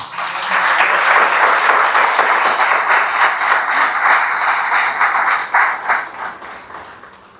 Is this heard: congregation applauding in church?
yes